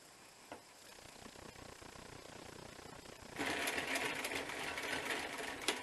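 Sewing machine stitching a bushcraft working vest, running steadily at a low level before getting noticeably louder and busier partway through, with a few sharp clicks, locking a stitch back and forth.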